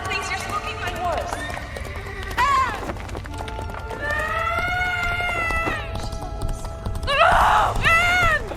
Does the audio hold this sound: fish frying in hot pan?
no